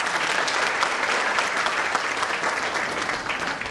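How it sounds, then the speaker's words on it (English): A crowd claps steadily in a dense, even round of applause at a school annual day celebration, sustained throughout without cheering. "A loud round of applause for yourself first"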